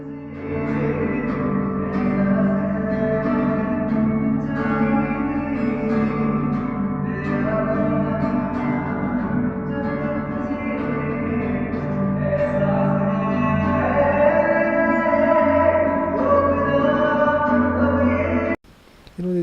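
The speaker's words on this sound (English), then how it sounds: "It sounds like kind of watery effect because only the reverb part is there" Music with sustained tones smeared in heavy reverb, giving a washy, watery wash of sound throughout.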